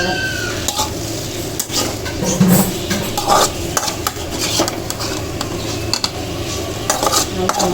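A spoon scrapes and clatters in a kadai as fried potatoes are stirred together with masala, giving repeated metallic knocks over a faint sizzle throughout.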